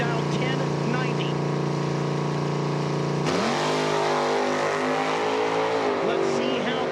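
Drag racing car making a pass at an IHRA outlaw nitro event in Milan, a loud engine roar launching and then howling through rising gears, heard from the track with commentary over it.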